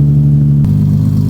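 A manual-transmission car engine runs while the car is put into reverse to back out of a driveway. A loud, close hum drops to a lower, rougher note midway as the clutch engages, with no talking.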